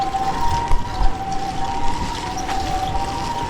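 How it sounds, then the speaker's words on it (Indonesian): A steady wailing ambulance siren sounds in the distance, holding a sustained tone over a low, rumbling outdoor background in rural Japan near dusk. "Kalau dengar suara ambulan tuh"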